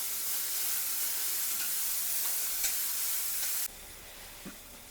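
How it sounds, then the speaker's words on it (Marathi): Onion frying in oil for Kolhapuri kharda chicken sizzles loudly and steadily with stirring, then the sound drops abruptly to a quieter hiss for the final second. "कांदा भाजून घ्यायचा चांगला."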